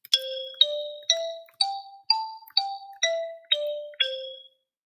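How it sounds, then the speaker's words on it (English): Nine crisp struck tones from a virtual xylophone climb through a scale pattern and descend again at a steady pace, clean and unaccompanied, then fade to silence. "a little bit of a warm up with our virtual xylophone"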